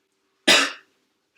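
A single loud, close cough bursts out and fades within about half a second, with the start of another sound creeping in at the very end.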